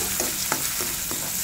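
Onion or garlic sautéing in a pan for a talong (eggplant) dish, a soft continuous sizzle with several light stirring scrapes, close up and with no talking.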